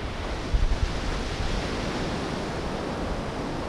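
Surf on a beach at Gisborne, New Zealand, a broad steady wash of waves and wind, moderately loud and continuous with no voices.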